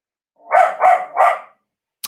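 A dog gives three loud, evenly spaced barks close by, upset by fireworks, followed by a short pause and a brief faint click; no one speaks.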